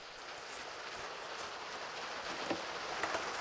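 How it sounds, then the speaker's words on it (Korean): Sudden autumn rain falls on a guava farm with greenhouses, a steady dense hiss of drops with a few faint louder patters, no voices. "예보 없던 비가 내리기 시작하는데요"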